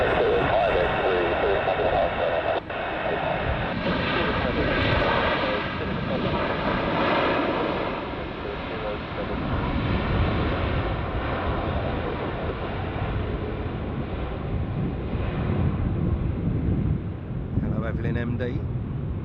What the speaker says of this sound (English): And United 787. Bit of a float down.